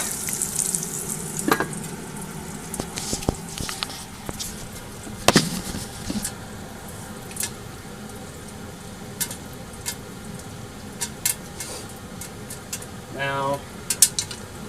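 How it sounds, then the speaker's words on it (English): Popcorn kernels in olive oil pop inside a lidded pot on high heat, scattered sharp pops spread irregularly over a low frying hiss, with occasional clatter of the pot and lid. "you've already got some popping action with the high heat"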